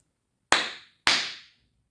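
Two sharp hand claps land about half a second apart, crisp and close with short decaying tails, followed by silence, as children clap a rhythm in a music lesson.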